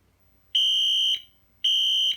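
A fire alarm test-sounding on its low volume setting emits two steady, piercing electronic beeps, each about half a second long with a short gap between, clean and alone in a quiet room.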